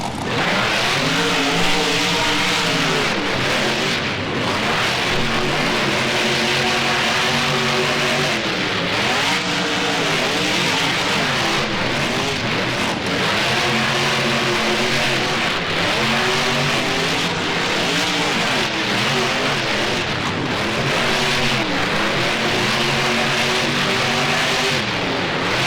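Monster truck engines race in the BeamNG video game at a fairgrounds track, a loud continuous roar of revving motors rising and falling in repeated acceleration sweeps throughout, with no voices.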